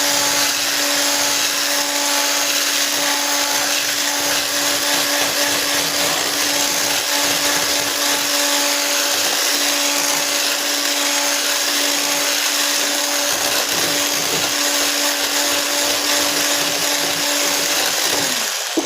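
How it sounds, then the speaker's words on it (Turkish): A steady, loud electric mixer whirs for nearly twenty seconds as it whips flour into cake batter, an unbroken high motor whine with a faint slosh underneath and no talking. "Şimdi ben bunu ununu çırpıcı yardımıyla çırpabilirim arkadaşlar"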